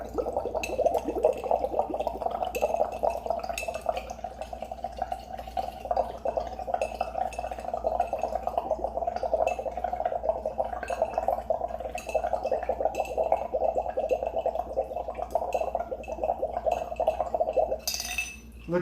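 Air blown through a straw or tube into a glass of bottled alkaline water, a steady bubbling and gurgling that runs continuously and close up for most of the span before stopping.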